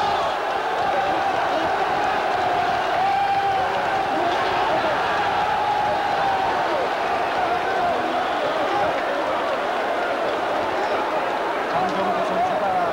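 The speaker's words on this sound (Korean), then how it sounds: "팬들이 함성을 지르고 있습니다." A boxing arena crowd roars steadily after a KO win in a Jung Koo Chang vs Hilario Zapata bout, a dense continuous cheer heard under a broadcaster talking.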